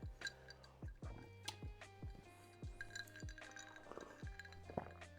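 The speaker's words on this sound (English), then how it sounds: "I'm just going to give this a little bit of a stir to get that syrup in." A spoon stirring syrup into a cup of coffee, ringing with quick, evenly spaced clinks against the cup, each with a short bright ring, fairly quiet and close, with no speech.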